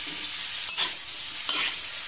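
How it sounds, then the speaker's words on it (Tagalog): Food sautéing in butter sizzles steadily in a pan, a constant bright hiss with two brief stirring scrapes, close up and with no voices. "ginisa ko mula ito sa butter"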